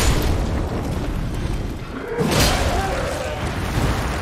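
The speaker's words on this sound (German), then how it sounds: "Die explodieren einfach." A loud, dense roar of explosions in the video game Elden Ring, with a heavy boom swelling in the middle, sustained throughout.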